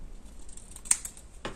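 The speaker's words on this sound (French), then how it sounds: "je vais prendre les ciseaux" A couple of quick, crisp snips of scissors cutting paper, faint and close, with a soft rustle between them.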